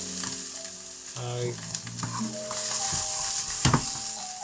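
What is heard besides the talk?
onions frying with pork and ginger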